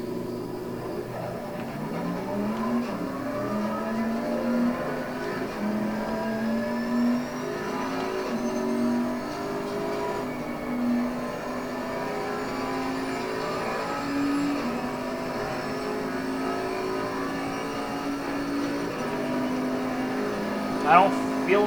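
A race car engine in Assetto Corsa Competizione on PS5 drones steadily and loud throughout, its pitch rising and falling through gear changes and throttle shifts while driving laps, with a couple of sharp spikes near the end.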